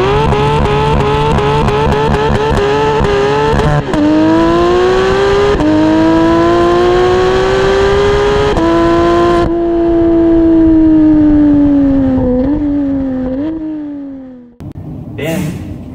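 A Porsche 911's 4-litre naturally aspirated flat-six screams through repeated rev climbs toward 9,000 rpm, its pitch sweeping up and easing off, loud and close, ending with a brief burst of noise.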